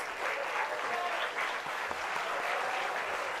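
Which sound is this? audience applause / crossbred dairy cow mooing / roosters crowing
audience applause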